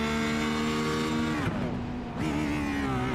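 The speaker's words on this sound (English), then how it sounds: "Oh, we can hear the clutch there." A GT3 race car in a sim racing game at Long Beach drones with a steady engine whine, dipping sharply as the clutch is engaged and the revs fall before climbing back, with no talk.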